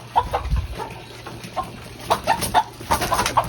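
Chickens stuffed into sacks cluck and squawk in a run of short, bright bursts, clustered and fairly close, with a low steady hum underneath.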